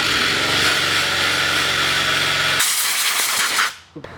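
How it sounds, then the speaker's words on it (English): A wire brush spun on a drill scouring paint off rusty metal, a loud harsh continuous grinding hiss that shifts in tone partway through, then winds down and cuts out near the end. "just coming in with a wire brush on the drill and removing like extra paint and stuff around it"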